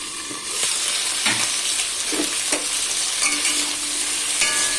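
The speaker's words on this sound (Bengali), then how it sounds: "সিমটাকে একটু বসা করবো তার জন্য আগে ভেজে নিচ্ছি" Flat beans frying and being stirred in a pan on a home stove, with steady close sizzling and intermittent scraping stir strokes throughout.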